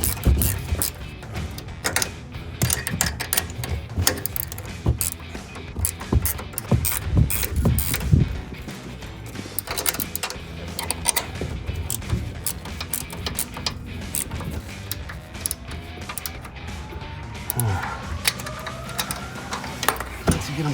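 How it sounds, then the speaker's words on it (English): Ratcheting wrench tightening bolts on a Chevrolet Silverado 1500 MotoFab front leveling kit, irregular bursts of close metallic clicking and knocks with pauses and faint shop background. "Once you get them close with your ratcheting wrench"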